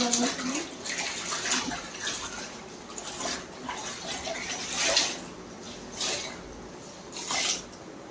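Water is poured and splashed across a floor during cleaning, giving irregular gushes and sloshing bursts over a wet hiss, close by, with faint background noise and no clear speech.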